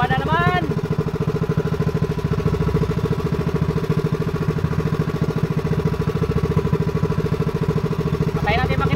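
A fishing boat engine runs loudly and steadily throughout with a rapid, even chugging rhythm, close by.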